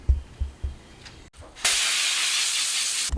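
Compressed air blasts through air filters from a John Deere 1025R tractor, a loud, steady close-up hiss that starts after a few soft knocks and handling sounds.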